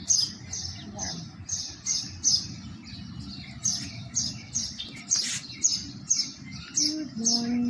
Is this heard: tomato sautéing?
no